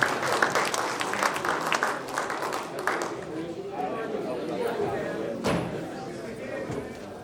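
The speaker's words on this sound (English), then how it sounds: "Please give a round of applause for the three panelists," Audience applause for three panelists at a healthcare investment panel event, a dense wash of clapping that starts strong and gradually thins out over several seconds.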